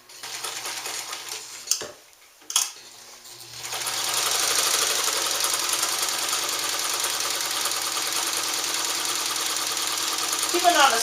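Vintage Japanese Class 15 sewing machine top stitching fabric, a steady close mechanical whir running continuously after a couple of sharp knocks and brief handling noises at the start.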